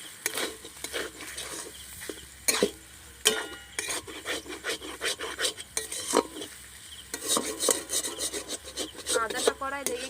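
Spiced mashed potato scraped and stirred in a metal wok with a spatula, a run of irregular rasping, scraping strokes with occasional sharp metallic knocks, close and moderately loud, no talking.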